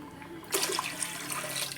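Water poured into a cooking pot holding rice for Mangalore-style tomato rice, a close, steady splashing pour that begins about half a second in and runs to the end.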